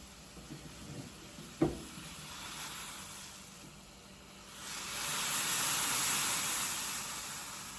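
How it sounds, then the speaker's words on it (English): Chai on a gas stove turned down to simmer, a soft steady hiss that swells louder and brighter in the second half as the pot comes to a boil, with a single sharp knock near the start. "I would turn the heat down a little bit and allow it to simmer. And boil."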